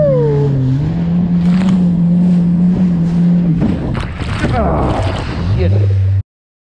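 A Yamaha FXHO jet ski runs on open water, its engine droning steadily and shifting pitch, with water rush and spray splashing loudly before it cuts off abruptly.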